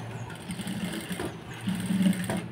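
Sewing machine running steadily as it stitches a blouse, a continuous close motor hum with a brief pause before picking up again, louder toward the end.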